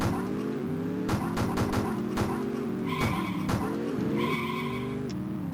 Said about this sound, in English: They're everything that you would expect, engine noise and little jingles for collecting items.